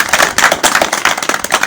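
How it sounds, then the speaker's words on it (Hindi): Crowd at a political gathering clapping hard together, a dense, loud burst of rapid hand claps with no talking. "जेड़ा इस चीज़ ते मेरे नाल हो जोरदार तालियां बजाओ"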